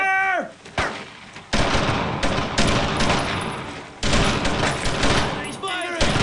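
Rapid bursts of rifle and machine-gun fire in the World War II shooter Brothers in Arms: Road to Hill 30, loud and dense for several seconds with brief gaps, under shouted soldier voices.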